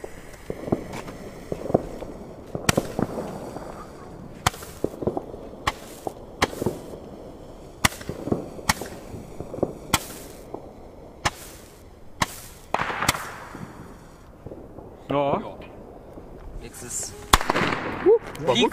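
Consumer fireworks go off outdoors: a series of sharp, loud cracks and bangs at irregular intervals, with a whooshing rocket launch near the end and occasional voices between the blasts.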